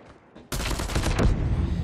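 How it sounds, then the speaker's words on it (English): M16 and other guns fire in a shooter game. After a quiet start, a sudden loud burst of rapid overlapping shots sustains dense and close to the end. "I forgot they changed the audio on some of the guns, so including the snipers, and it sounds freaking nice."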